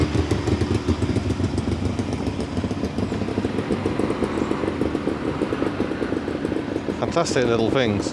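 Small two-stroke microcars such as Bond Minicars and a Bond Bug idle and putter with a rapid, buzzing pulse at a microcar rally, close and continuous, while someone talks over the engines.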